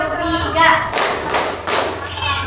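Schoolchildren in a classroom play a counting clapping game, a few loud unison claps landing in a steady rhythm close by, with children's voices chanting over the start.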